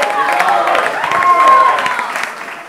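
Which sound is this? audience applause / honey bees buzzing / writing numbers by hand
audience applause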